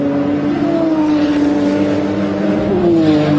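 A Porsche GTP prototype race car driven by Klaus Ludwig roars past at Laguna Seca during a 1987 IMSA Camel GTP race, its loud, steady engine drone holding a sustained pitch with a slight drop near the end.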